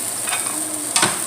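Carne asada sizzles on a grill beside jalapeños and onions, a short close hiss with a brief scraping stir near the end, no voices.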